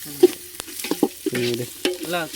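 Chili powder being stirred into chicken biryani masala frying in a pan, with a ladle scraping and stirring in quick, uneven strokes over a soft, steady sizzle.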